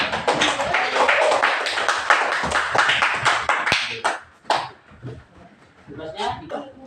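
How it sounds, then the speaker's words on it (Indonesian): Classroom applause at an Indonesian school lesson, a few seconds of dense, fairly close clapping that thins into scattered claps before fading out. "Tepuk tangan."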